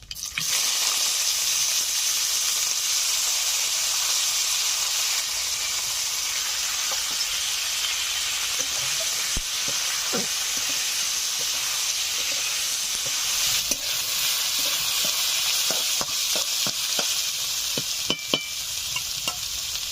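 Cut potatoes frying with whole white cumin in a pan give a steady, close sizzle throughout, with occasional scraping and clinks of stirring growing more frequent toward the end.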